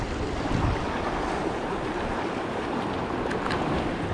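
Waves and water wash steadily at sea during an inshore fishing trip for snook and shrimp, a continuous near rush with wind buffeting the microphone and no talk.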